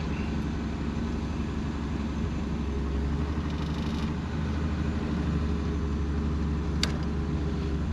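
A 1941 Studebaker with a three-on-the-tree manual gearbox drives along, its engine giving a steady low rumble with faint road noise and a brief click late on.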